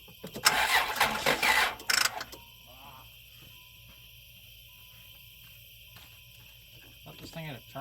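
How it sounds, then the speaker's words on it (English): A 1993 Plymouth Grand Voyager SE, sitting unused for 18 years, cranks in a loud rough burst for about two seconds and then settles into a faint idle, with crickets chirping and a voice briefly near the end. "I'll crank it one more time"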